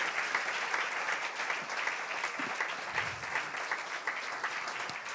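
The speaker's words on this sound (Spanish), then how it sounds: "Si le va a dar el aplauso, déselo grande en esta hora," A church congregation applauds during a sermon, a dense, steady wash of many hands clapping at once, loud and sustained from start to finish.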